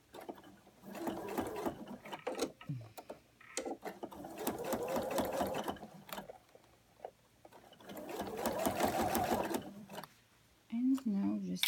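A sewing machine stitches down a bag seam in three long, steady runs of close mechanical whirring and needle clatter. Short pauses break the runs, with a few handling clicks between them.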